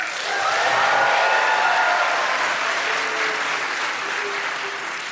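Sustained audience applause in a live comedy show, a broad steady wash of clapping that swells early and holds for several seconds before tapering slightly, with no speech over it.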